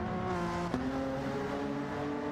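A race car in Gran Turismo 7 takes a hairpin, its engine a steady, fairly quiet tonal drone that drops sharply in pitch with a gear change partway through, then holds on.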